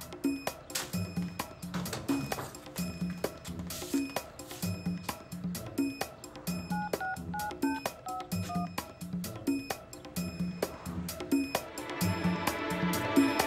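A telephone number is dialed with a series of short electronic keypad tones in quick succession, close and clear over faint background sound, with no talking.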